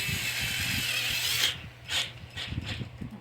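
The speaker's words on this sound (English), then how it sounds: "Put on a power tool or your ratchet, whatever you're using. And tighten down your 10mm bolts here." A ratchet or power tool tightens 10mm bolts on a Toro lawn mower: a steady mechanical whir for about a second and a half, then several short clicking bursts.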